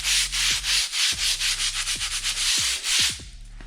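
A brush scrubs tile and grout cleaner into a floor in rhythmic back-and-forth strokes, loud and close, with a low steady machine hum underneath.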